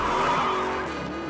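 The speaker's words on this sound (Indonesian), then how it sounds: "Ia pun segera mengendarai mobilnya dan mengejar mobil tersebut ke jalan raya" Tires skid and squeal during a car chase on a road, a loud sustained screech with engine noise carrying steadily through the whole moment.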